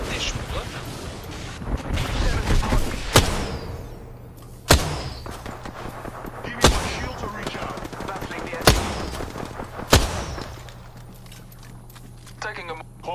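Gunfire in a Star Wars video game: repeated sharp blaster shots and bursts at a steady interval over busy game noise and effects, with players talking throughout.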